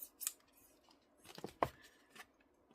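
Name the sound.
scissors cutting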